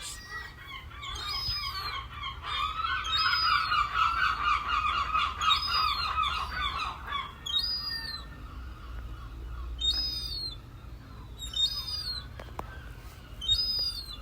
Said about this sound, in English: This is the sound of one of the baby gulls coming towards me.